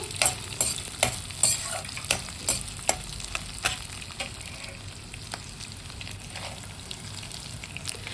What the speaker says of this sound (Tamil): அதையும் போட்டு நல்லா வறுக்கணும், பொன்னிறமாக வறுக்கணும், கருகிடக்கூடாது